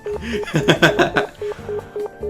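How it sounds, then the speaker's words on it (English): Telephone dialing tones from the visual novel Nekopara sound as a rhythmic run of short keypad beeps, with a busier stretch of voice and sound in the middle. "Why is no one picking up the phone?"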